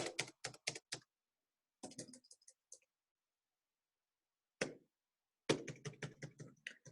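Fast bursts of computer keyboard typing in clusters, close and crisp, with silent gaps between runs and a longer final stretch of rapid keystrokes.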